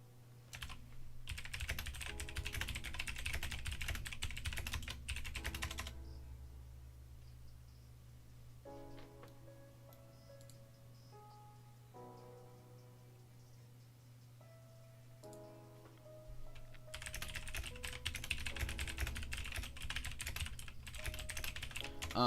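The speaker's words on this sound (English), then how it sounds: "I'm typing" Computer keyboard typing during a live market charting session comes in rapid, dense bursts of clicks near the start and end, with sparser taps in between, close and fairly quiet with no talking.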